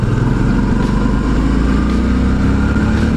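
A larger adventure-style motorcycle rides along a gravel road, its engine droning loudly and continuously with a steady low rumble and constant road noise throughout.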